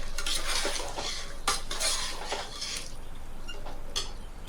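Mutton khichda ingredients stirred together in a pot over low flame: clinking and scraping of a metal spoon against the pot in short bursts over a faint sizzle, close by, no speech.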